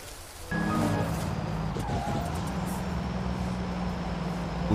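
A heavy truck rumbles past nearby on a rainy night street, a steady low engine drone with some rushing noise that starts abruptly and holds for several seconds.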